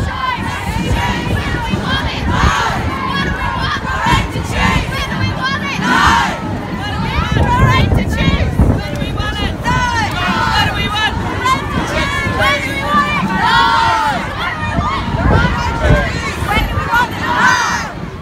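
A large crowd at a pro-choice rally in Belfast roars and chatters continuously, loud overlapping voices, cheers and shouts filling the space throughout.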